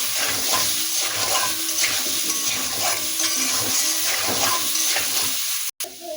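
Potatoes frying in a pan with turmeric, a loud continuous sizzle with rhythmic scraping stirs close by, ending in a sudden brief cut before the frying resumes.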